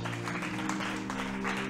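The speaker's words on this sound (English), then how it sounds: "Give the Lord a hand clap right there." Church congregation applauding the Lord during a worship service, a steady wash of many hands clapping over a sustained organ or keyboard chord, brief and moderately loud.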